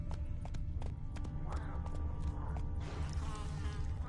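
Roach, a horse in a video game, gallops with quick, rhythmic hoof clip-clops and clattering tack, close and steady, while a person speaks briefly over the hoofbeats.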